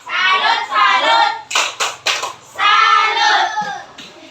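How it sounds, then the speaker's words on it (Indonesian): In a school classroom, students clap their hands in a short burst of several quick, close claps between stretches of spoken talk. "Oke, tepuk tangannya, tepuk tangan."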